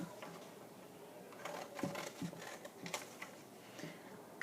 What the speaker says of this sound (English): I'm cutting to that purple construction paper